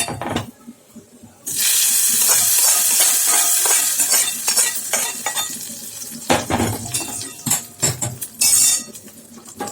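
Ladle clanking and scraping against a pan as tempered spinach greens are stirred and mashed, with a sizzling wash after the first couple of seconds and repeated metallic knocks throughout, close and fairly loud.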